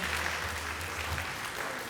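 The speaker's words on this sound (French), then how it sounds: "Applaudissements pour lui encore une fois." Audience applause at a reggae awards ceremony: a continuous, fairly faint patter of many hands clapping, with a low hum underneath.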